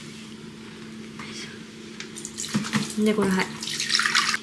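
Tap water runs into a container during home mochi making for the year-end, a steady rushing wash that swells louder toward the end, with people talking softly over it.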